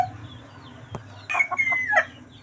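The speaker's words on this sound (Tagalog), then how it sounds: "meron kaming manok" A chicken clucks several times in short, close, loud bursts after a quiet start, with a single sharp knock just before.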